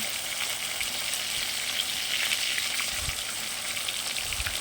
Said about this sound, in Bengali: কি সুন্দর ভাজা হচ্ছে বলো